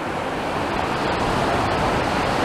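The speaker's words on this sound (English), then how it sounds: "As the tide is coming in, we can see there." Incoming tide waves wash in near Blackpool South Pier as a steady, close, broad rush of surf, loud and continuous without pause.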